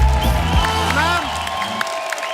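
An audience applauds and cheers at a televised Hindi show honouring Sharmila Tagore, with clapping and whoops. Voices and some tonal sounds overlap at the start, and the applause carries on under them as the sound thins toward the end.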